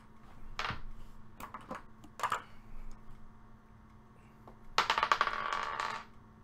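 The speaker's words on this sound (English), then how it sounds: "let's roll the dice" Dice rolled for a random hockey card pack break clatter in short bursts of tumbling clicks, a few quick rattles at first and then a longer, busier roll near the end, fairly close and quiet.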